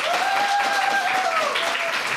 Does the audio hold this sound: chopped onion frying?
no